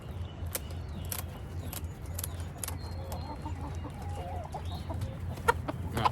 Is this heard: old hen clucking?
yes